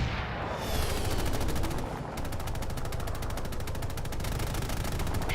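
Rapid automatic gunfire in an online shooter match, a dense, continuous rattle of rounds fired close by, with faint more distant shots at the start.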